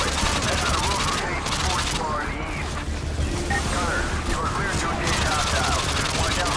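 Dense, continuous gunfire from explosive rounds in Modern Warfare 2, rapid overlapping shots and booms under game noise and voices.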